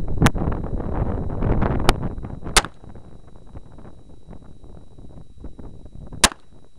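Glock pistol shots ring out outdoors, four sharp, loud cracks spread irregularly over several seconds above steady wind noise on the microphone.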